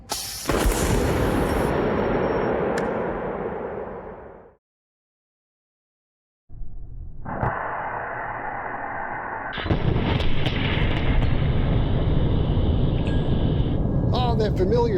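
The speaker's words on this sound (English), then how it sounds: "Okay, the bank is charged and ready to fire." A Lorentz plasma cannon fires from a capacitor bank charged to 150,000 volts, giving a loud, harsh broadband blast that slowly fades. After a silent break, a steady droning hum begins and then grows louder.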